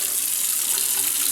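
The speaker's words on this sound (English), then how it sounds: "gap here for the water to go down" Steady hiss of water running down a clogged bathroom sink drain, continuous and close, with no voices over it.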